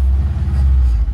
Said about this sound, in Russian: У нас машина очень громкая.